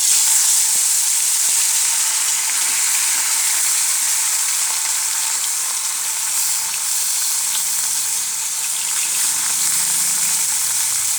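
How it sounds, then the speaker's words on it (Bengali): Snakehead fish fries in hot oil in a wok, a loud, steady sizzle with a dense, hissing crackle that holds without a break from start to end, with no voices. "এখন মাছটা আমি ভেজে নেব"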